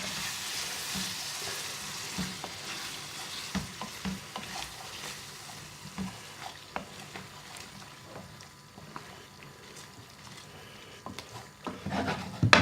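A spoon stirs vegetable vindaloo curry simmering in base gravy in a British Indian restaurant-style pan. The scraping is close and repeated over a steady sizzle, and the clatter grows louder near the end.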